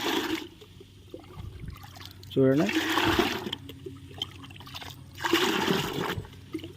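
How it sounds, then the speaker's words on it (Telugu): Running water pours in bursts onto garden plants, two loud splashing gushes separated by quieter trickling, with a person talking and a brief higher whine in between. "ఇట్లా పట్టి రోజు చెట్లు వాటర్ పోస్తాను"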